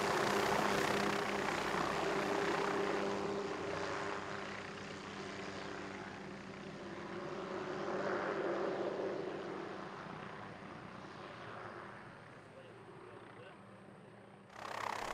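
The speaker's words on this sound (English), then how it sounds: "A few minutes later, the helicopter returns, this time to pick up the hunters" A helicopter flies over New Zealand's Southern Alps on a red stag hunt, its steady rotor and engine drone swelling and fading over a long stretch, fairly loud and continuous, rising sharply again at the very end.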